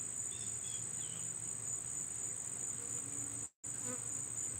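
Honeybees buzz around an open beehive during honey harvesting, a steady high drone with a few individual bees flying close by, briefly cut by a moment of silence.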